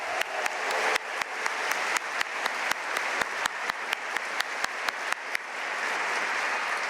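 Graduation audience applauding for scholars, a broad sustained wash of clapping in a large hall, with regular sharp clicks punctuating it.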